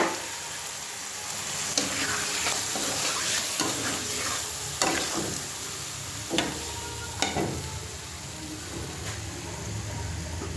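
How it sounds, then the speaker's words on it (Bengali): Spiced, marinated fish hits a hot kadai with a steady, moderately loud sizzle, and a spoon scrapes and clanks against the pan at irregular intervals. "দেখো এবারে মাছটা আমি ঢেলে দিলাম"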